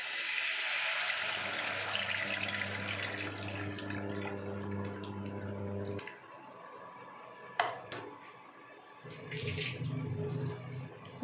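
Tamarind water pours steadily into a pan of tamarind curry for several seconds over a low hum, then tapers off, followed by a brief clatter and a softer sizzle.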